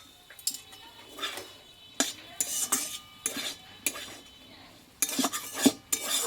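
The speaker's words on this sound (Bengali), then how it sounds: "ধনের পাতাটা দিয়ে কিছুক্ষণ আমি নাড়াচাড়া করে নিয়েছি" Chopped coriander leaves are stirred into a cooking filling in a pan for a Bengali snack, a series of distinct scraping and clinking utensil strokes against the metal pan at an uneven rhythm.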